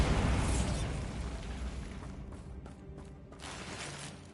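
A Bombarda blasting spell in Hogwarts Legacy goes off as a heavy booming explosion right at the start, then rumbles and slowly fades out, with faint crackling debris in the tail.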